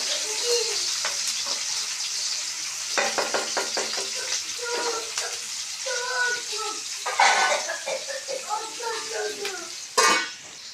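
Onions and green chillies fry in oil for a chicken curry, giving a steady hiss with occasional stirring clatter, while a person talks over it at moments.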